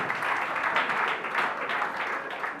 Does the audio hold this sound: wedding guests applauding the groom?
yes